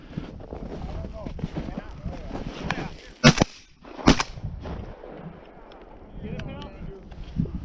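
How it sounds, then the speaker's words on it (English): Two hunters firing shotguns outdoors on a hunt, two sharp, loud gunshot cracks less than a second apart, with wind noise and people talking around them. "We both shot at the same time."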